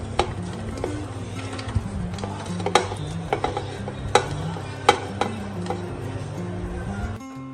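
Garlic, onion and tomato go into keema in a pressure cooker, giving a steady sizzle with scattered sharp clicks and scrapes of stirring, close and fairly loud, with no talking.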